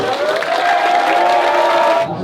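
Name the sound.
audience applause and cheering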